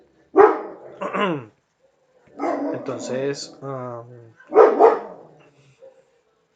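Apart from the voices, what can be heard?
dog barking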